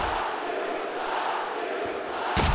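Crowd at a wrestling event cheering, a dense, continuous roar of many voices that swells briefly at the end with a sharp thud.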